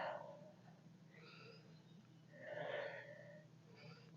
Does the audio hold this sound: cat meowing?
no